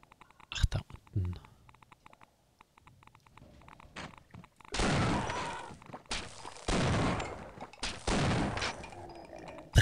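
Gunfire rings out in the video game Half-Life, a few sharp shots early on followed by longer bursts of loud, noisy firing, with quiet clicks and faint sounds between them.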